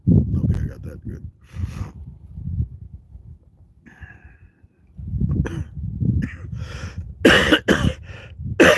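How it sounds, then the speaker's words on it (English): Someone coughs repeatedly in harsh bursts up close, with pauses between fits and a few louder, raspy coughs near the end. "It's better, trust me, but I'm still gonna cough."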